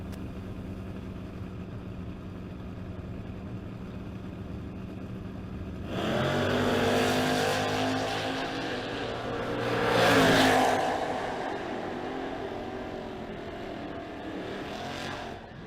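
Drag race cars launch at a footbrake bracket racing event, a Camaro among them, with a loud engine roar erupting partway through, swelling as the cars pass and peaking again before easing into steady rumble.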